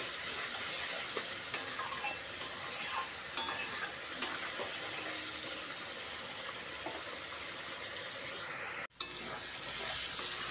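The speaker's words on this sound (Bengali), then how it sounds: "মশলাটাকে এখন আমরা ভালো করে কষে নেব।" Spice paste with salt and turmeric being sautéed for a chicken curry with bamboo shoots, a soft continuous sizzle with light scraping taps of a spoon, fairly quiet, with a brief dropout near the end.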